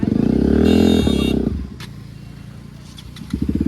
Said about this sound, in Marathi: हे सायलेन्सर ऐक ना. माझ्या डोक्यात दुखायला लागले जाम.